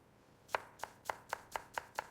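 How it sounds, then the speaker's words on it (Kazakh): Onion is chopped with a knife on a board for plov: seven quick, crisp taps in a steady rhythm, close but fairly quiet, nothing else heard. "Сосын пиязды тазалап, оны да турап аламыз."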